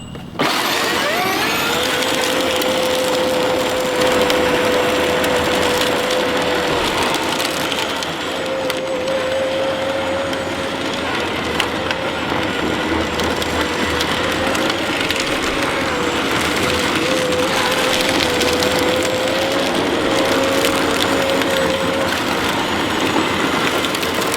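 Power Wheels electric jeep motors running on a 48V battery in low gear, a loud, steady electric whine with grinding, rattling drivetrain noise held for over twenty seconds.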